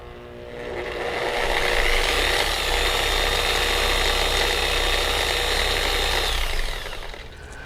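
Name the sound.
car polisher running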